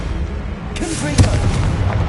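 A Confringo blasting spell goes off in Hogwarts Legacy as a loud, close, booming blast with a sharp crack and rumbling tail, just after a brief shouted voice.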